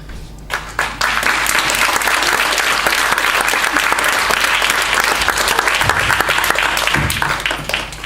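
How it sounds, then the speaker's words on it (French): Audience applause at a talent cabaret show fills the room as a contestant arrives, dense, steady clapping from a large crowd that stays loud throughout with scattered louder claps near the end. "applaudissez le temps qu'il arrive"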